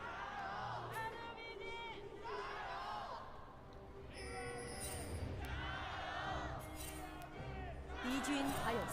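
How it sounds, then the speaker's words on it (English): Esports arena crowd at an LPL League of Legends match roars and chants in waves, a dense, fairly distant mass of voices with whoops rising and falling, overlaid by amplified announcer-style speech. "I'll take a brief pause while the crowds have a word."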